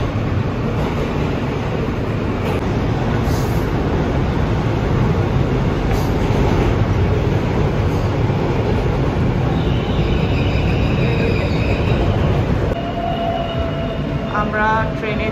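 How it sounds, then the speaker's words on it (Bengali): Steady, loud rumble of a New York subway train in motion fills the ride from inside the car, with rail noise throughout and brief high squealing near the end. "আমরা এখন ট্রেনে উঠে গেলাম, এখন যাত্রা শুরু"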